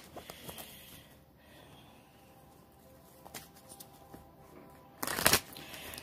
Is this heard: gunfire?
no